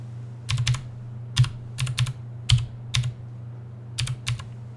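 Someone types a username and password on a computer keyboard while setting up a Raspberry Pi 4: close, crisp clusters of keystrokes in short bursts with brief pauses between them.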